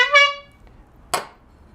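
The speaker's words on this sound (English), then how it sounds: "Well, I did honk, but I don't necessarily have to have just one honk." One short, bright vehicle horn honk rings out loudly and cuts off. It is followed by quiet and then a single sharp noisy burst.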